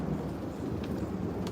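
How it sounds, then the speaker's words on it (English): A New York City thunderstorm fills the air with a low, rolling rumble of thunder beneath steady rain, a constant hiss of drops with a couple of brief sharper spatters. "We just had I would say a borderline severe thunderstorm."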